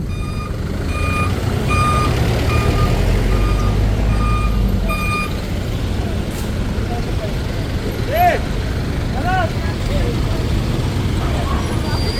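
A tow truck's reversing alarm beeps in a steady repeating pattern during an illegal-parking clearing operation on a city street, with engine rumble and traffic noise around it and people talking nearby.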